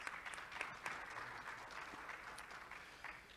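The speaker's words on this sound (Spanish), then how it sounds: "Démosle un fuerte aplauso." Quiet, distant applause from an audience at a Spanish-language public health panel event, a soft continuous patter of many hands with a few sharper claps, fairly even throughout.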